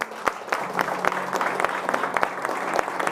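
A church congregation claps at the start of an evening service, the applause coming as bursts of separate claps over a light room murmur, close and lively.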